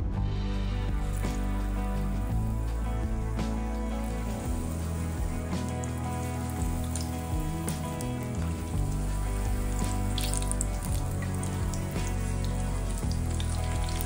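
Capsicum pakora, long strips of bell pepper dipped in gram flour batter, frying in hot white oil in a kadai: a continuous dense sizzle and crackle with faint kitchen noises and a low hum beneath.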